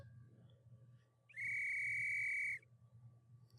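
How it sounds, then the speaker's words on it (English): In a video game, a single sustained shrill whistle rings out for about a second over a low ambient hum, loud and steady before cutting off cleanly. "Suddenly, the sound of a whistle echoes throughout the room."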